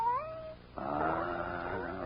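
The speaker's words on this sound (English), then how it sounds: "Mike, will you stop bothering with that cat?" A cat in an old radio crime drama gives a close, drawn-out meow, then a harsher, louder, strained yowl that fills the rest of the moment, with no voices.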